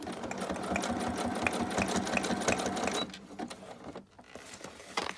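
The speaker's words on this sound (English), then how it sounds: "I'm just going to then stitch that." A sewing machine runs steadily for about three seconds, stitching a simple fabric cover for a junk journal, with a rapid even needle rhythm, then slows and stops, leaving quiet handling noises.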